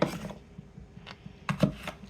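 Knife chopping apples, stems, cores and bad spots included, on a cutting board: a few irregular knocks spread across two seconds, two firmer ones close together near the end, moderately close with no talking.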